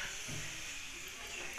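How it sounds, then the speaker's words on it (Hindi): A steady, loud hiss of steam escapes as the pressure is let out of a still-hot pressure cooker, continuous with no breaks throughout. "कुकर हमारा ठंडा नहीं हुआ है ज़्यादा, तो इसकी हवा निकाल रहे हैं"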